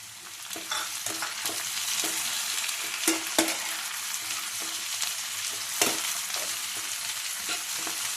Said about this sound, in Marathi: आता या टोमॅटोला आहे ना आपण 5 मिनिटं परतून देऊ चांगलं.